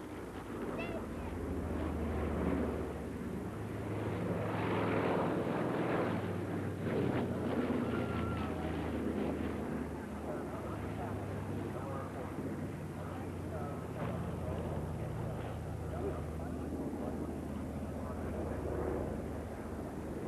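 A Consolidated PBY-5A Catalina flying boat drones steadily in flight, its engine roar constant and close from inside the cabin for the whole stretch, with talk faintly over it.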